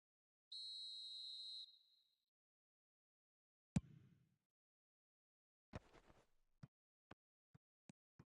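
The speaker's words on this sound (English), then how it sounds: "Whistle's gone, that's a foul." A referee's whistle in a football video game blows one long, clear blast, followed by a sharp thud and a run of short, crisp clicks, all set against near silence.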